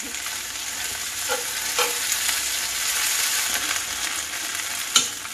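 Squash and onions frying in a pan over medium heat, giving a continuous close hiss of sizzling with a few soft knocks of a utensil, steady and unbroken with no talking.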